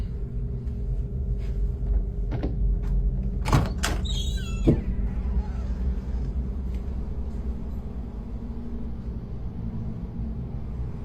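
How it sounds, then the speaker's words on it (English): A door is opened with a few sharp knocks and clunks followed by a short scraping slide, over a constant low rumble and hum. "I'm gonna open this door and it's gonna stop."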